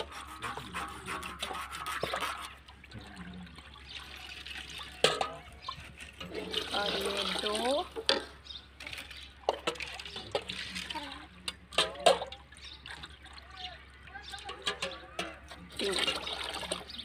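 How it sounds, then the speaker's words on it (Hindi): Water pours and splashes into a cooking pot for peas pulao in uneven bursts, faint and close, with occasional clinks and quiet talk in between, in a Pakistani village kitchen. "अब इसमें पानी डाल रही हूँ।"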